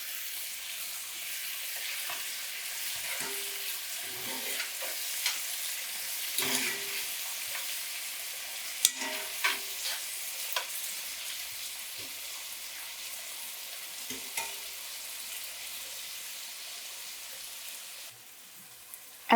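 Tomato with its juice fries in a pan with a steady, soft sizzle and hiss, and a utensil stirs and scrapes now and then at irregular intervals. The frying stays close and fairly quiet and continues throughout, with no voices.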